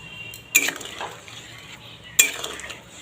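Fish roe fritters drop into a pot of simmering water and boiled potatoes, two separate splashy plops with a metallic clink, each followed by brief bubbling and stirring sounds.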